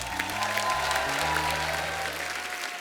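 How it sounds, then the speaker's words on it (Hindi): Studio audience on a Hindi comedy talk show applauds two film-star guests, a continuous rush of clapping with low music tones running underneath. "जोरदार होनी चाहिए तालियां।"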